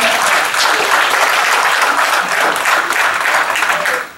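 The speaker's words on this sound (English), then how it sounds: "Let's give God a hand clap of praise" A church congregation claps in praise at a Sunday service, dense sustained applause filling the room steadily for several seconds before tapering at the very end.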